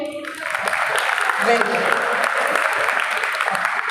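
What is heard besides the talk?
class audience clapping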